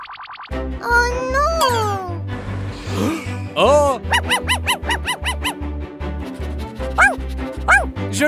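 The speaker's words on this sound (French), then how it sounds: "C'est un chien!" A cartoon dog in a children's animated story barks and yips in several short bursts over bouncy background music, alongside sliding cartoon sound effects.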